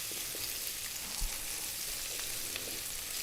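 Garlic and ginger, about a tablespoon each, sizzle in a generous amount of hot oil in a pan, a steady, close frying hiss that runs alone throughout.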